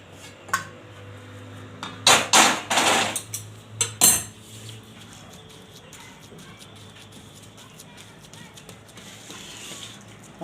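Methi pak mixture pressed flat into a tray with a metal utensil, producing a burst of loud clanking and scraping metal knocks around the middle, then quieter faint handling, close and without talking.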